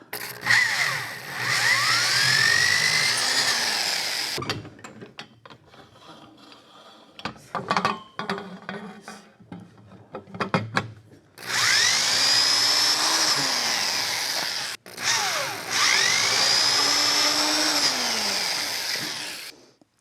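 A reamer cuts spoke holes in the frame of a red Aermacchi motorcycle. Two long whirring, squealing passes sit on either side of a quieter stretch of clanks and handling knocks.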